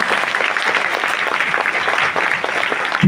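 A church congregation at a healing prayer meeting claps loudly and steadily in a dense, continuous burst of many hands, close and full throughout.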